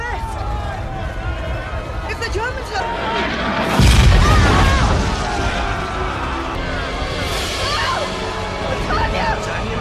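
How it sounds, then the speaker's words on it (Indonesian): A bomb blast in a WWII battle scene from the film Enemy at the Gates lands as one heavy, low boom amid chaotic crowd noise and shouting, with a narrator speaking over the din. "Tanpa diduga, serangan bom membuat Tania terkapar dan tak bergerak"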